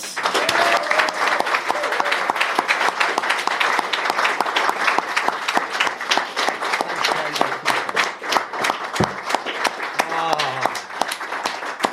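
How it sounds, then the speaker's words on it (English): At a live 100th-episode podcast recording at the BIS, an audience gives a big, lively round of applause that runs for about twelve seconds. Scattered cheers and voices rise within the dense clapping. "Please, big round of applause for Kate."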